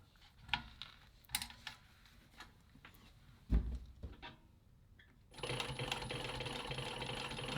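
A Tysew post bed sewing machine stitching through leather folded over several times: scattered handling clicks and taps first, then a steady, fairly quiet whirring run of stitching in the last two seconds.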